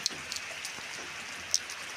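Rain falls steadily on a farm with cotton fields, a soft continuous hiss broken by a few sharp drip taps, with no one speaking.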